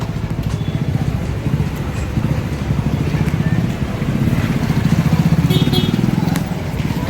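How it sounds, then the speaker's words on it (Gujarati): A motorbike engine hums and rumbles steadily at close range on a walk to Vadtal, growing a little louder mid-clip as it passes, with people talking over it. "પેલું બાઈક આવે"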